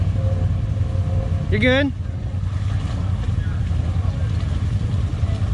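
A mud bog vehicle's engine runs at a steady low rumble on a muddy trail beside a deep pond, with wind noise throughout and a person briefly speaking over it.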